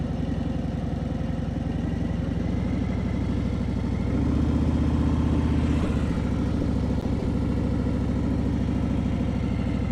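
A Harley-Davidson touring motorcycle engine idles steadily at close range with a deep, even rumble, swelling slightly midway and holding a constant loping pulse throughout.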